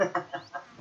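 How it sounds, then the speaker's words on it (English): Minecraft chickens give a quick series of soft, rhythmic clucks, about five short bursts in under a second, fairly faint and close. "I can hear the birds making creepy noises"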